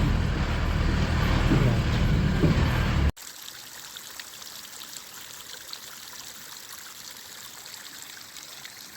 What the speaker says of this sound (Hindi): ये जगह जगह से पानी निकलता है और ऐसे पीने के काम आता है